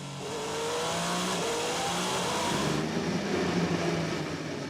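Race cars at the 6 Hours of Fuji endurance race roar past under green flag racing, engines layering together in a steady, moderately distant drone with pitch sweeps as cars pass.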